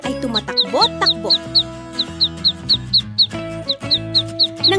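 A cartoon duck scene in a garden, with repeated short bright quacking calls from a mother duck and ducklings over bouncy instrumental music.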